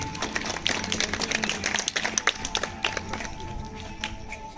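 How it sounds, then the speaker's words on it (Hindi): Scattered hand claps ripple through a crowd at a village awareness day event as a speaker is welcomed, fairly faint and uneven with a low background hum. "वेलकम मंजीत, तालियों से स्वागत करें प्लीज।"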